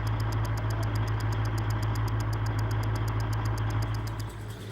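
A military vehicle's engine idling after start-up, a steady low rumble with a regular rapid ticking pulse above it, holding even throughout and easing slightly toward the end; fairly quiet and alone.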